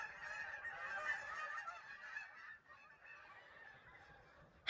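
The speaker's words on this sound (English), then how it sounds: "Guys, the geese." Geese honk in a faint, continuous overlapping chorus at a distance, with no talking.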